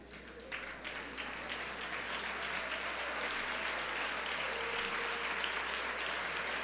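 A congregation at a church service applauds in a dense, continuous wash of clapping that runs loud and steady throughout, with faint voices underneath.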